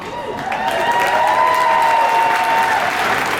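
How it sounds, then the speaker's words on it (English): Audience applause from a live event crowd in Chicago, a dense, steady wash of many hands clapping together at full volume across the whole stretch, with no talk over it. "I thought you guys would clap more for that."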